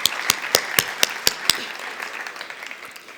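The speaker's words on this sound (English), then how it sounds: "Shall we give our VC again a big round of applause?" A handful of sharp, evenly spaced hand claps from an audience saluting a university Vice Chancellor at a research appreciation event; the claps are close and crisp at first, then stop, leaving faint room ambience.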